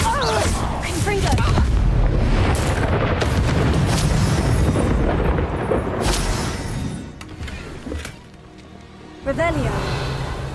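Confringo blasting spells bursting in the Hogwarts Legacy video game, a rapid run of loud, booming explosions crowding the first half, easing off before one more sharp blast near the end.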